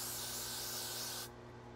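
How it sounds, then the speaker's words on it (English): A close, continuous hiss from a spray can aimed at a wig lasts just over a second, then cuts off abruptly. "And we're just gonna spray it."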